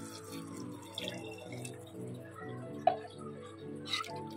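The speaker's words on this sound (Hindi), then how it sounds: "अब हम इसमें डालेंगे 3 कप्स वाटर" Three cups of water are poured into a potato vegetable mixture for pakodi, making a soft, low, continuous pouring and splashing sound with a few light clinks, faint and close, without talk.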